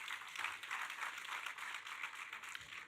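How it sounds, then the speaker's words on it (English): Steady applause from an audience, a continuous patter of many hands clapping at moderate volume with no voices on top. "I think let's give them a round of applause."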